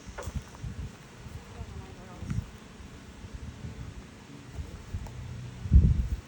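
A low, steady buzz of many honey bees hums close by outdoors at an opened hive, with occasional rustling thumps and a louder burst near the end.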